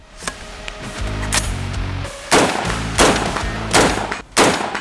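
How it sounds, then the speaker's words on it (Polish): Five loud, sharp rifle shots from a POF P-15 fire one after another at a steady pace outdoors at 100 metres, each cracking and echoing briefly. "Pierwsze podejście 100 metrów, 5 strzałów."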